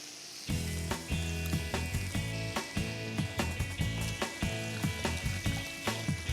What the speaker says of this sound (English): We're just crisping it up and grabbing some of that ham fat